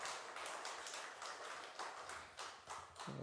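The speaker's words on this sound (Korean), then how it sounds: "우리 격려의 박수 한번 하십시오." Applause of encouragement from a church congregation fills the room as dense, fairly quiet clapping with a loose pulsing rhythm, with no one speaking over it.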